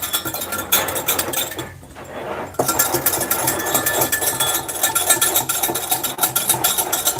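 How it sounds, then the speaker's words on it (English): Farm-fresh eggs are whisked for an omelet in a bowl, a fast, steady clicking and scraping that runs almost without a break, with a short pause partway through. "Let's whisk it up."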